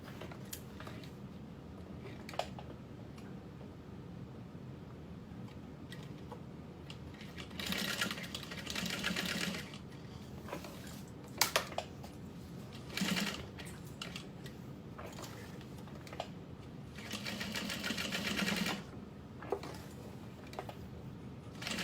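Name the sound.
sewing machine sewing a box stitch on a strap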